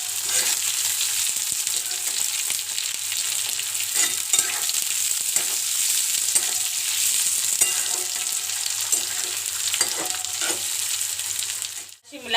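Shredded cabbage sizzles and fries in a hot pan for street-style Schezwan noodles, a steady loud hiss broken by scraping stir strokes throughout, with no talking.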